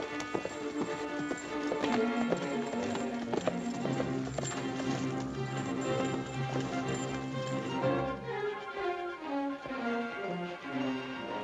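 Horse hooves clip-clop at a steady walking rhythm in an old 1948 Western film, the regular knocks running throughout alongside a soundtrack of music.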